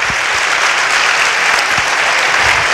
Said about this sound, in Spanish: el aplauso que sea como triple